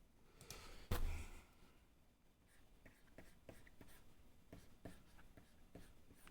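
A pen scratches across paper in short, regular strokes while Hanja characters are written, close and fairly quiet, with one louder knock near the start.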